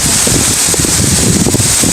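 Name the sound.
strong wind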